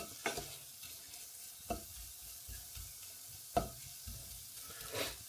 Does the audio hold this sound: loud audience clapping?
no